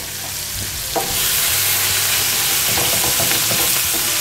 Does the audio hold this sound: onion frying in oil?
yes